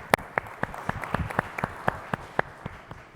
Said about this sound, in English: they're applauding for what you did